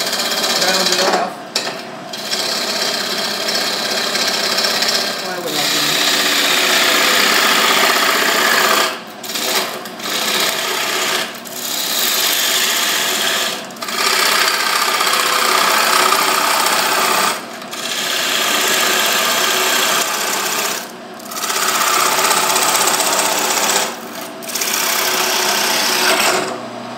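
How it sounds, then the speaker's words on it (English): Bowl gouge rounding off a segmented wooden potpourri box on a lathe, a loud continuous scraping whir from the spinning wood, broken by several short pauses as the tool lifts away. "I can go ahead and use a bowl gouge to round it off."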